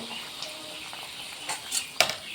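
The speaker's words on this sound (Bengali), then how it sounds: "তেল গরম হয়ে গেছে, ময়দা ছেড়ে দিলাম। এবার মালপো শুরু হবে।" Malpua batter made with flour poured into hot oil fries with a soft, fairly faint sizzle and a few sharp spatters and clinks toward the end.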